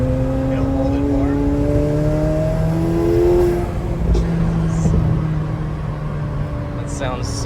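A McLaren 750S with a twin-turbo 4.0-litre V8 accelerates, its engine note rising in steady pitch sweeps, with brief blow-off valve chirps and flutters near the end. The engine is close and loud, with a voice talking over it.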